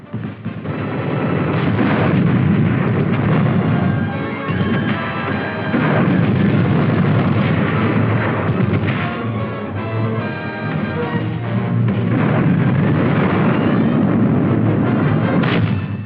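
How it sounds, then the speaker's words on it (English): WWII artillery and mortar fire during the Battle of Manila, Philippines: loud, dense booms and rumbling explosions rolling continuously with no pause, heavy and close throughout. "the effectiveness of our artillery and mortar fire in softening up the enemy positions"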